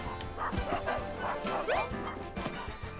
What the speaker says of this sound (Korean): 뭐야 강아지 뭐냐 강아지 너 누구니?